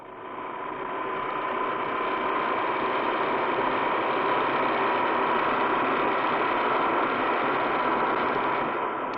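A car's engine drones at a steady, loud level with a continuous mechanical hum and rattle, revving along without a break or any voices.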